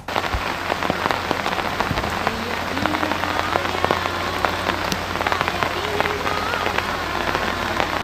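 Heavy rain pours down steadily over a paddy field in Kerala, a dense continuous hiss of drops pattering on surfaces throughout.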